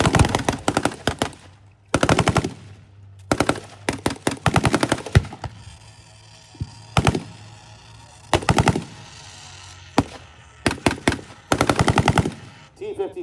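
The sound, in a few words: DShK heavy machine gun firing in tank battle reenactment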